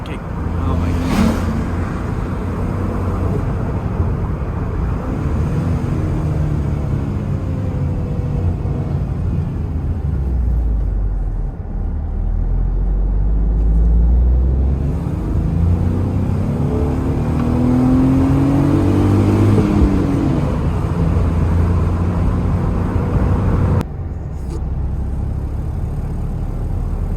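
A car strains slowly through second gear on a road, its engine droning steadily and rising in pitch over nearly half a minute, with wind rushing loudly throughout.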